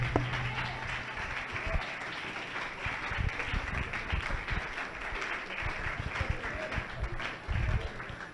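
A church congregation applauds and cheers in a sustained wash of clapping that runs the whole stretch, with voices mixed into the crowd noise.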